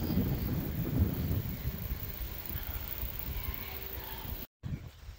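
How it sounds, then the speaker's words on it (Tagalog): Steady wind rumbles and buffets against the microphone outdoors on the coast at Castle Point, New Zealand, with a brief dropout near the end. "Ang sarap ng hangin."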